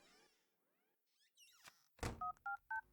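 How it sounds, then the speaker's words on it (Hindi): A mobile phone number is dialed, heard as a run of short, evenly spaced beeps after a soft rustle and a thump. The tones are close and clear against a quiet room. "विक्रम को फोन लगा रहा हूँ"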